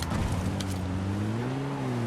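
Motorbike engine in a video game, a steady low drone with slowly rising pitch over two seconds, fairly loud and alone with no talk.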